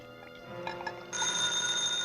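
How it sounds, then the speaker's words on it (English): Old-fashioned telephone bell in a radio drama sound effect, first a faint ring, then a loud sustained ringing that fills the rest of the moment, alone with no voices. "And that was the call I should have never answered. But at night, 8 stories up in an empty office building, that ringing sounded urgent."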